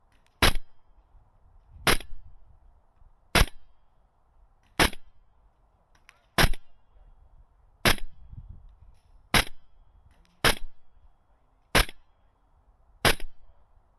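A GunsModify HK416A5 MWS airsoft rifle fires single shots at a target, ten sharp snapping cracks at an even pace of roughly one and a half seconds, each followed by a faint tail, with no talk.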